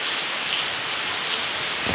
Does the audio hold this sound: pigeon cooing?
no